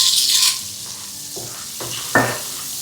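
Puffed corn (dhani) stirred in a hot pan with butter and oil, giving a steady close sizzle with a few scraping stirs and a sharper clatter near the end, no voices.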